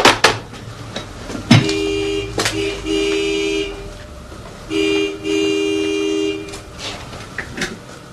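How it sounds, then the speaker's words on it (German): A car horn honks again and again outside, three long blaring blasts with short gaps and a few sharp knocks in between, loud and close. "Draußen hupt wie verrückt ein Kunde."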